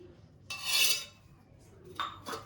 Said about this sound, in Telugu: ఇవి మూడింటిని బాగా కలబెట్టుకోవాలి.